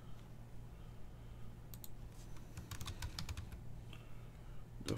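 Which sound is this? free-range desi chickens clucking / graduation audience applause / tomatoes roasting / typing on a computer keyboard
typing on a computer keyboard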